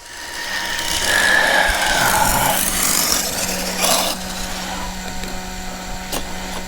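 Traxxas X-Maxx 8S RC monster truck at full throttle, riding a wheelie with a Powerhobby Raptor XL belted tire coming apart: a loud whining electric motor and drivetrain with tire roar, easing slightly toward the end, no talk.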